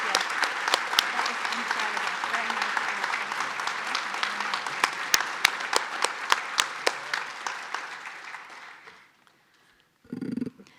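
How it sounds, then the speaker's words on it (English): An audience at a veterans recognition ceremony applauds steadily in a hall, with dense clapping and a few sharp individual claps for about nine seconds, then it fades out and a short low rumble follows after a brief silence. "how about a round of applause for Callan, for Anders, and for our color guard?"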